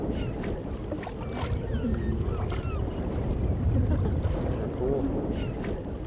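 Canoe out on open water at Kouchibouguac Park, a steady wash of water and wind with faint splashes and distant bird calls, no clear talk.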